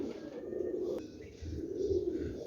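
A breeding pair of teddy pigeons cooing close by, with two soft, throaty coos separated by a short pause and faint background noise behind them.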